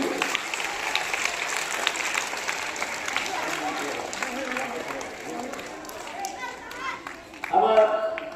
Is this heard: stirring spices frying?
no